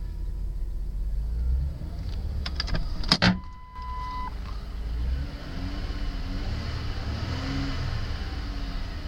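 2008 Ford Taurus engine with about 94,685 miles at a salvage yard, idling with a steady rumble, briefly disturbed by clicks and a short mechanical whine, then holding a smooth, even drone.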